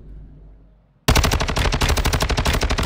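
Rapid automatic gunfire from a Fortnite-style shooter game bursts in suddenly after a quiet moment, a loud, dense stream of shots that continues to the end.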